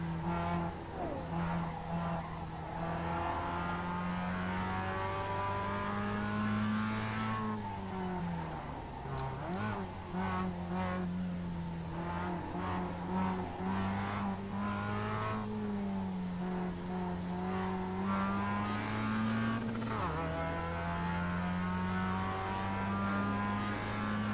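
A Mazda Miata race car runs flat out down the front straight at Okayama, Japan, heard from the cockpit. The engine drones loudly and steadily, rising through the gears, with brief dips at the shifts.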